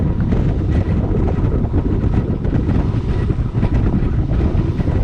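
Gusty sea wind buffets a racing sailboat offshore, producing a loud, constant low roar of wind and water rushing without pause.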